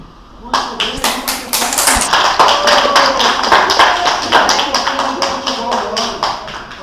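Audience applause in a city council chamber during a vote on an inquiry committee report, a dense, steady patter of many hands clapping that swells and continues throughout, with voices mixed in underneath.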